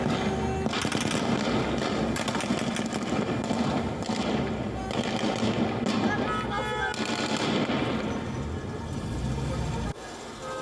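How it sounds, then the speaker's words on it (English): Dense, continuous heavy weapon gunfire from a crackdown by Iranian security forces in western Iran, rapid overlapping bursts and thuds sustained loudly throughout with crowd noise mixed in. "That sounded like a heavy weapon"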